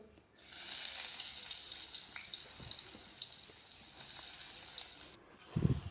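Onion sautéing in hot oil with cumin for samosa filling, a steady close sizzle and crackle that holds for several seconds before cutting off, with a brief low clunk at the end.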